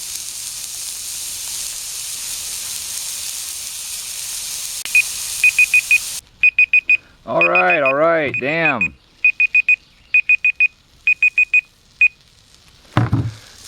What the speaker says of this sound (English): Set a timer for 4 minutes.